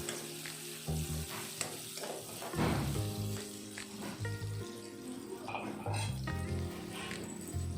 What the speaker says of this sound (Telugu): ఇందులో ఇప్పుడు కొంచెం క్రష్ చేసిన వెల్లుల్లి ఒక 5-6 వేసుకోండి.